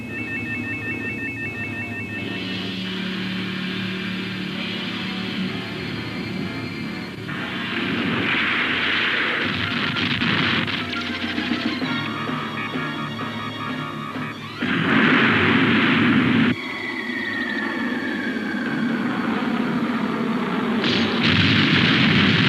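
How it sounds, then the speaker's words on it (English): Sustained gunfire and explosion effects from a 1983 TV show rumble and crackle throughout, with loud bursts and booming swells layered over a constant noisy bed of battle sound. "Bubba, keep firing."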